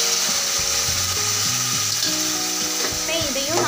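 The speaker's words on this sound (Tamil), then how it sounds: "இப்போ இதையும் நல்லா வதக்கணும்" Onions and tomatoes sauté in a pan for chicken gravy, a loud continuous close frying sizzle with occasional stirring scrapes underneath.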